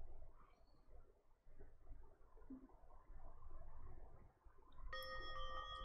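A bright chiming announcement jingle from the video game Danganronpa rings out near the end, ringing tones after a quiet stretch of low rumble.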